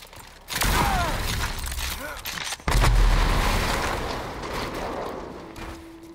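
Explosions in the video game Rage 2, two heavy booming blasts with rumbling low-end tails and debris crackle, loud and close, layered with gunfire and game effects.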